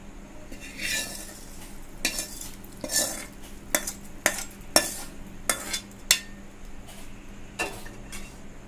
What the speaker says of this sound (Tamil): தாளிச்சிட்டு நல்லா கலந்து விட்டுக்கலாம்